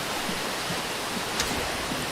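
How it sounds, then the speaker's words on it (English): Rushing waterfall in a WarDust game map, a steady broad hiss of falling water, constant and fairly close with no voices over it. "This water is noisy."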